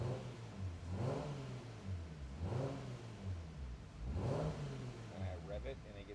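Toyota Supra with a BorgWarner turbo revving on a dyno, three rising and falling engine revs in a row at moderate distance, with a brief softer blip at the end.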